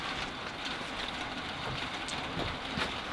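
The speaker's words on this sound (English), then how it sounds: "It's raining as much as I'd hoped" Steady rain falling outdoors at a shooting range on a rainy day, a continuous dense hiss of drops close by, even in level throughout with a few sharper drips standing out.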